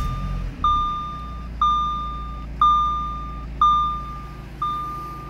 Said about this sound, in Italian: eliminare quel fastidioso bip delle cinture